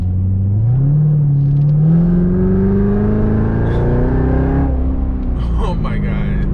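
A Corvette C7 Z06 3LZ drives off, its engine revving up in a rising, loud, close roar that then settles to a steady drone as the car pulls away.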